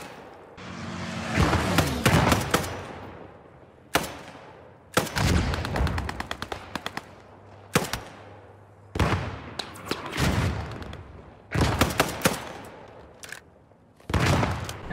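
A Gewehr 43 semi-automatic rifle fires in the Post Scriptum shooter game. Loud, sharp shots come in quick strings and clusters, each with a booming echoing tail, separated by brief pauses.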